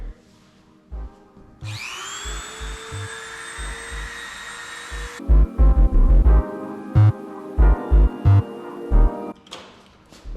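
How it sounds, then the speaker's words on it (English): Dremel rotary tool on a carbon fiber front-end part of a Kawasaki Ninja H2 spins up to a steady high whine for a few seconds, then drops to a rougher grinding tone amid rhythmic low thumping, close and without speech. "I'm gonna need to do a little bit of Dremel in here."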